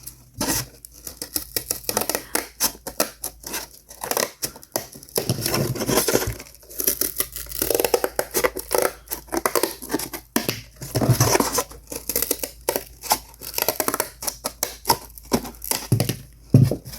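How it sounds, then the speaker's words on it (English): Scissors snip little leaves off a plant stem, a long run of close, crisp cutting clicks and rustling crinkles in bursts with short pauses. "I'm just going to cut right across and cut these little leaves off"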